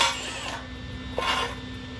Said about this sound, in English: drilling a bunch of these holes